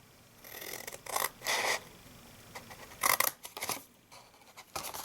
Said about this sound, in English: So we'll get our scissors and cut up.